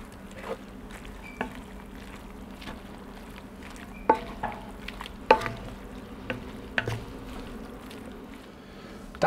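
Chicken meat being folded into a sauce in a Dutch oven, quiet stirring with a soft background simmer and several light scraping clicks of the utensil against the pot.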